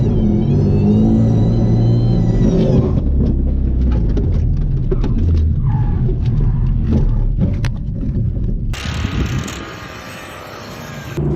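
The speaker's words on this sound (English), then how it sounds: "Insert footage of blowing up car here." A supercharged 2018 Mustang fitted with a supercharger suffers engine failure. A loud, continuous roaring rumble with engine harmonics gives way to dense broadband noise, then a shift to a harsher, brighter roar near the end.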